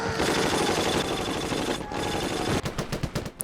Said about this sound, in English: The main reason why I choose this squad is this 30 caliber machine gun.